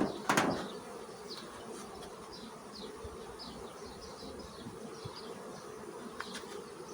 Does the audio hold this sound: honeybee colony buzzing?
yes